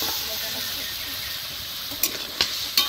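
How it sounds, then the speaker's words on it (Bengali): Jackfruit seeds and potatoes sizzle in a pan of oily spice masala, a steady close frying hiss with a few sharp clacks of a spoon or pot near the end. "এখন আমি কাঁঠালের বীজ আর আলু একসাথে দিয়ে দিব।"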